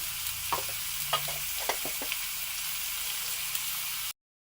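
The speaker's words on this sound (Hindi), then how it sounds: "तो अब हम इसको इस तरीके से 5 मिनट तक इस तरीके से चम्मच चलाते जाएंगे।" Raw mango chutney being stirred with a spoon in a pan over a low flame, giving soft scattered scraping and tapping strokes over a faint steady sizzle, with no voices.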